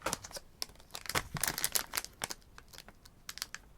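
Close, sharp crinkling of the plastic bag packaging of a Raspberry Pi product being handled and pulled open, in irregular bursts of crackles.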